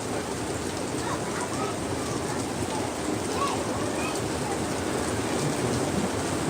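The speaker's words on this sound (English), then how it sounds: "Lightning," Heavy rain pours steadily in a dense, even wash of noise, with low rumbling underneath that could be distant thunder.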